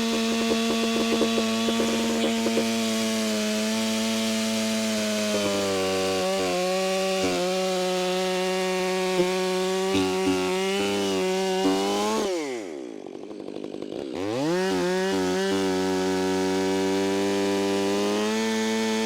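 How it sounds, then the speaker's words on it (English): A chainsaw runs at steady high revs, cutting the trigger from behind while felling a dangerous leaning tree; the loud buzzing drone holds for about twelve seconds, dips sharply as the engine bogs and slows, then climbs back to full speed. "Then I'm going to go around behind and just nip the trigger from the back."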